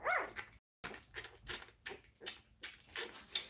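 A puppy barks in a series of short, sharp yaps spaced about every half second, close and moderately loud, with a brief silent gap near the start.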